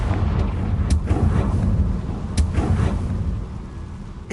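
Fiery blasting-spell explosions in Hogwarts Legacy, a series of sharp booms and rumbling bursts over a dense low roar, loud and close, with no talking.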